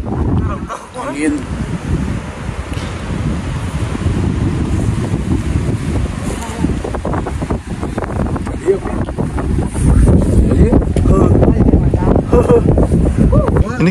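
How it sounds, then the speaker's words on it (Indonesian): Strong wind gusts buffet the microphone on a mountain hiking trail, a steady roaring rush that swells louder toward the end, with a person speaking over it. "Angin."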